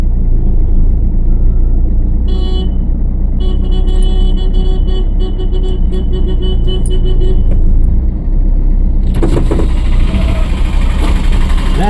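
A car engine idles and rumbles while the vehicle is maneuvered into a parking spot, with a brief horn-like toot and mechanical shifting, steady and close throughout, ending in a burst of broadband noise.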